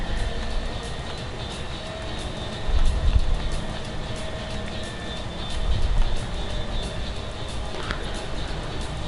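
A train rolls past near a station in the racing game The Crew, its steady rumble swelling twice as carriages go by, with faint high tones above the continuous rail noise.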